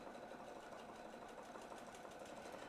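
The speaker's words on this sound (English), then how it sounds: "Sew around the template again." A sewing machine runs steadily while stitching around a template, giving a quiet, continuous rapid whirring chatter with no pauses or voices.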